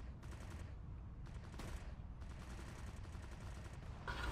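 Gunfire in the video game CS:GO, a dense run of rapid shots and bursts that continues almost without pause for several seconds, loud and close, with short breaks between volleys.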